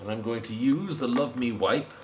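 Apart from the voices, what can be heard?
No distinct noise like a dog, phone or traffic.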